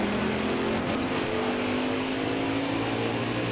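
A NASCAR Heat 4 race truck accelerates off pit road at Daytona, its engine a rising, continuous roar heard at moderate level with no talk.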